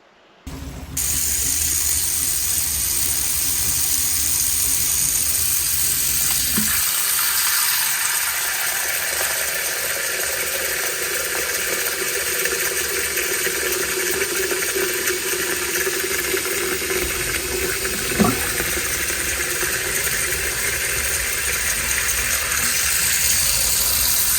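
Water runs steadily through a newly installed P-trap drain under a sink cabinet, a continuous close rushing flow that holds at an even level for the whole stretch after a brief start.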